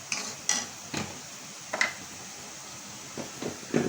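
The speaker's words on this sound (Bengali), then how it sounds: "এগুলা সব দিয়ে মশলা সব দিয়ে ভালোভাবে কষাচ্ছি" Spices and fish curry ingredients being sautéed in a pan, with a few separate scraping stirs and clinks over a faint background hiss.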